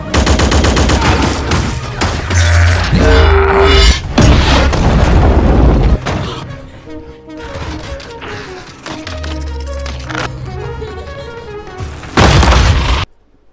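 A loud battle scene from a Transformers film as Autobots fight back, with heavy booming explosions, bursts of gunfire and crashing impacts piling up in dense, overlapping waves before a brief lull and a final blast.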